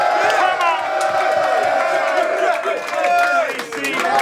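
A rap battle crowd at the Green Man pub on Great Portland Street in London cheers, whoops and shouts loudly and continuously, a dense roar of voices filling the room.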